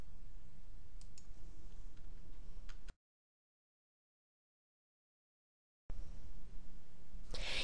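A few light computer mouse clicks on a Search button, close and faint against a steady hiss, with a stretch of complete silence in the middle.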